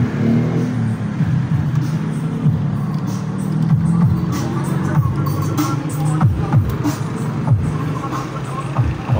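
Washing machine drain motor running on a bench test, a steady low mechanical hum with rattling clicks throughout, with faint talk in the background.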